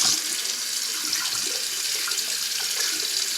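A steady hiss of water runs from a tap while hair is rinsed, close and continuous without any talking.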